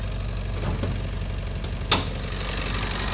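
A Toyota Corolla engine idles steadily with a low, even rumble, and a brief click sounds just before the two-second mark.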